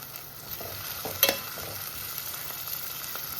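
Green chillies go into a pan of frying chicken-chilli base, giving a soft steady sizzle with a sharp clatter of stirring near the start, close and moderately quiet, no voices.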